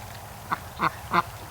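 Ducks quack three times in quick succession as they waddle down through the mud toward a lake, each call short and moderately loud over a quiet outdoor background.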